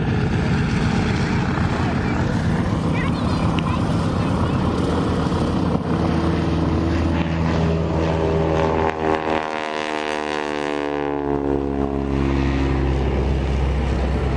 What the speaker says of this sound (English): Listen to the sound of the Harvard as it goes past.